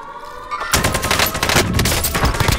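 Rapid automatic gunfire in a military video game bursts in after a quiet start, loud dense volleys of shots continuing to the end.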